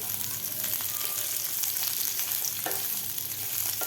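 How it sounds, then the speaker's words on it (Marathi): Thick-sliced onions frying in a pan, an even, moderately loud sizzling hiss with a few light stirring scrapes and a brief clink, no voices present. "असे जाड जाड कांदा आपल्याला व्यवस्थित भाजून घ्यायचा आहे"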